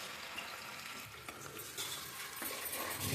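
Sliced onions deep frying in hot oil for dhaba-style chicken biryani, a steady close sizzle with occasional utensil scrapes and stirring, growing slightly louder toward the end, no voices.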